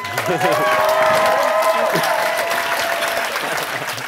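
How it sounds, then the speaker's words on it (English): A panel audience at SXSW claps and cheers loudly, a dense burst of applause with whoops and a voice or two carrying over it, tapering slightly toward the end. "the louder that y'all clap, it makes me not nervous"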